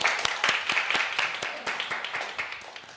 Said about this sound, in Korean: 우리 격려의 박수 한번 보냅시다.